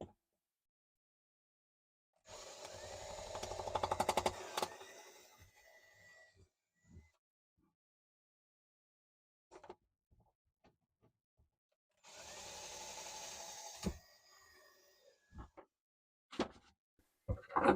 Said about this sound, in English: Do pilot hole.